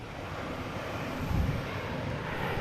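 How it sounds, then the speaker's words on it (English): A Delta airliner landing at Boston Logan airport, arriving from Charlotte, gives a steady, faint, broadband roar heard from a distance through light wind noise. "Delta just landing, coming in from Charlotte."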